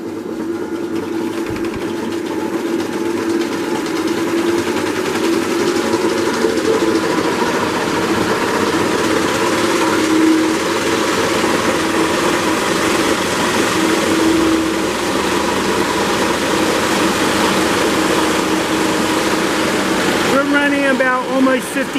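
A portable electric generator, loaded to nearly 2,000 watts at about 50 hertz, drones steadily and loudly with an even mechanical hum that continues without pause, and a brief change in pitch comes near the end.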